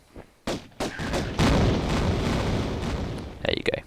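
A creature exploding in the video game Tomb Raider: several abrupt booming bursts followed by a rumbling blast that trails off, with someone talking over part of it.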